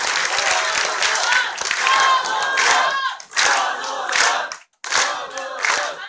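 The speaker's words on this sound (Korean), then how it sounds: "다시 한번 천호선 대표님께 박수 쳐드리겠습니다." A loud crowd claps and cheers at a Justice Party leadership campaign speech in Seoul, with voices shouting over the applause; it dips briefly near the end, then surges again.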